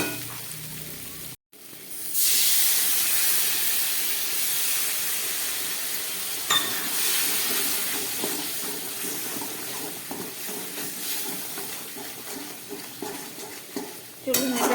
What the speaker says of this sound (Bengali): সমস্ত কিছু দিয়ে আমি একটু সামান্য জল দিয়ে এটাকে কষাবো